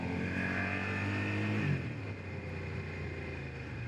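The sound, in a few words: Suzuki SV650 motorcycle rear brake locking up, skidding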